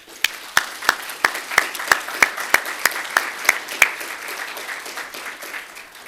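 Applause breaks out at an employee recognition ceremony, a room of staff clapping steadily with a crisp, regular beat that carries on for several seconds and then thins out toward the end.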